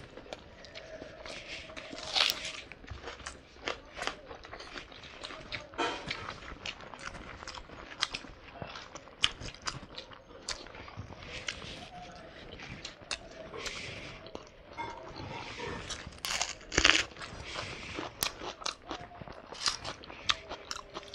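Big mouthfuls of rice with spicy egg curry, crunchy papad and chutney being chewed close up, with wet, steady chewing and sharp crunches recurring throughout and no talking.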